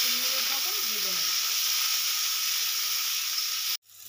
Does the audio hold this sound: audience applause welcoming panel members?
no